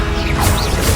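The Levioso levitation spell going off in the Hogwarts Legacy video game: a short, loud magical whoosh with two bright bursts over a low rumbling game soundscape.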